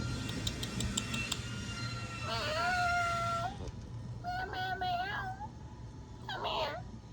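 A pregnant cat gives several drawn-out meows, the first pair close together and then a third, heard fairly near over steady low background hum.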